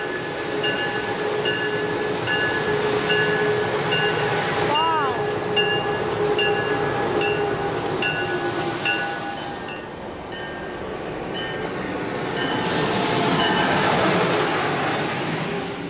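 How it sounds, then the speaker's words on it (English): Amtrak regional train approaches a station on Route 128 at rush hour: a long rumbling roar with squealing wheels and a rising, falling whine, and an automated station announcement mixed in. "Train approaching"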